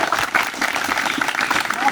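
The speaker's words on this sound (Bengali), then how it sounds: "একবার জয়দার তালিয়া।" Applause for a selected Indian Army para commando candidate at a fitness academy, a brief burst of clapping from a small group, loud and close, with voices mixed in.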